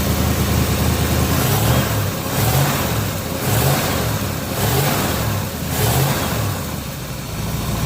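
A 1967 Chevrolet Chevelle engine revs over and over in steady, loud pulses, its carburetor flooding a little, with no voices over the close mechanical roar.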